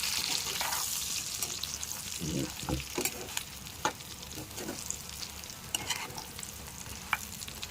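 A spoon stirs mutton curry in a pan with frying green chillies, giving a steady sizzle broken by irregular scraping and clacking strokes, close and moderately loud.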